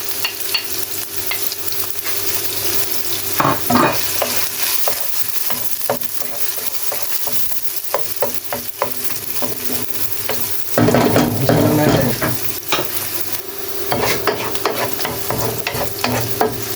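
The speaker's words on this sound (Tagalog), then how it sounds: "Sibuyas." Onion and garlic sauté in a pan for Filipino pork menudo, a continuous loud sizzle with repeated stirring scrapes and clatters throughout.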